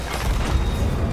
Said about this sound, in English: All right, get ready to fire cannons.